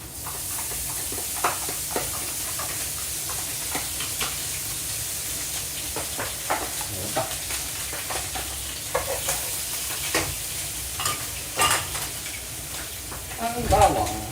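Garlic frying in a pan over a high flame, giving a steady, continuous sizzle with intermittent stirring scrapes and clatters, while a person speaks over it.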